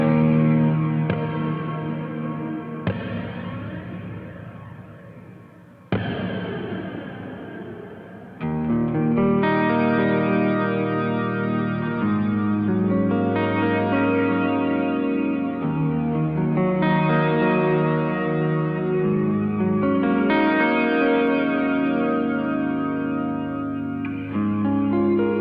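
An electric guitar through a DigiTech Supernatural ambient reverb pedal, with chords ringing into long washy reverb tails, swirling flanger-like modulation and octave shimmer, loud and continuous with no talking.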